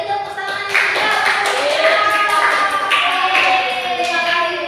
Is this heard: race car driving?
no